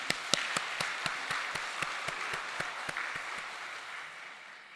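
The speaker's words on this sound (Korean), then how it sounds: "우리 복의 근원 되신 하나님께 다시 한번 찬양과 영광의 박수 올렸으면 좋겠습니다" A church congregation during a Sunday service clapping in praise, loud, steady rhythmic claps in unison, a dozen or so evenly spaced beats over scattered applause that gradually fades.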